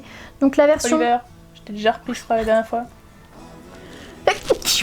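A single sharp sneeze bursts out near the end, following stretches of conversational French speech from nearby speakers.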